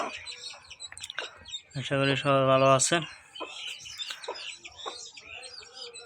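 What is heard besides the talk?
hen clucking with newly hatched chicks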